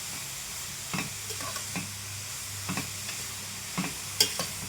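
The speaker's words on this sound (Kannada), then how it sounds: "ಈ ಥರ ಒಂದು 5 ನಿಮಿಷ ಚೆನ್ನಾಗಿ ರೋಸ್ಟ್ ಮಾಡಿಪ್ಪ." Carrots being stirred and roasted in a pan, likely in ghee, for carrot kheer: a string of soft, scraping spoon strokes roughly every second against a low, steady sizzle, close and moderately loud, with no talking.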